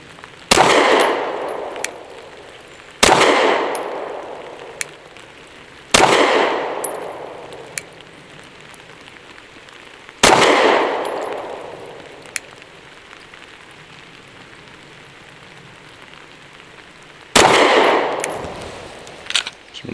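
Five loud, sharp gunshots from a Derya Arms DY9 pistol firing PMC Bronze 124 grain rounds at an outdoor range, spaced irregularly a few seconds apart, each with a ringing decay and faint metallic clangs between.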